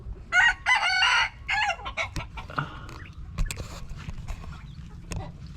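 A newly acquired backyard flock of chickens, with a rooster crowing loudly up close followed by scattered clucks and softer bird calls.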